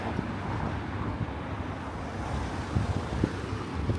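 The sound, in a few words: wind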